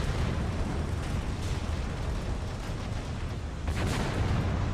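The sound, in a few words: gunfire and explosions in Graviteam Tactics video game battle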